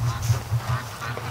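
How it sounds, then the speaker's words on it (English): Crossbreed ducks quack indoors in short, low, repeated calls, several birds close by and moderately loud, with no talking over them. "We got a whole bunch of ducks are inside here."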